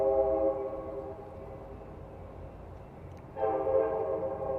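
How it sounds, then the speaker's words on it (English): A train passes in the background in Oakland near Alameda, a steady distant rumble with a long horn blast that swells near the end, no talk. "you can see the train going in the background"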